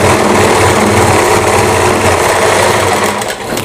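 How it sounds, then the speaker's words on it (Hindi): A sewing machine runs steadily while stitching a kanchli blouse, its motor whirring loud and continuous throughout with no pauses. "अब हम इसके ऊपर एक सिलाई लगा देते हैं"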